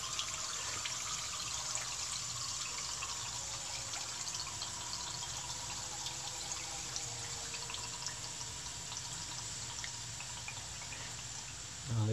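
Water flows steadily through the pipe of a small home-built micro hydro generator, a constant hissing rush with no breaks that stays fairly quiet throughout.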